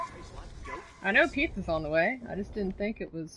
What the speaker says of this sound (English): Sorry for the dogs barking everyone's ears there for a second.